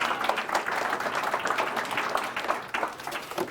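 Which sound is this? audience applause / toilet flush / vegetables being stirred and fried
audience applause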